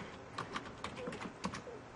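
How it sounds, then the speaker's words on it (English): Soft, quick clicks of typing on a computer keyboard connected through a Samsung USB connector, irregular taps heard close and fairly quiet over low background noise. "you can hear me typing"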